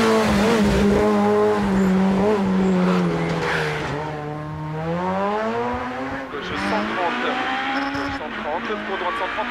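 A Peugeot rally car races downhill on the Col de Turini stage of the 2009 Monte Carlo rally. Its engine note is loud and close, rising and falling through gear changes, with a commentator talking over it throughout.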